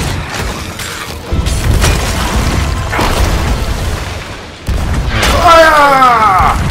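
Cannon fire in the Sea of Thieves video game on a beach, heavy booming blasts over a dense low rumble, with a sharp new impact near the end followed by ringing tonal debris, voices mixed in.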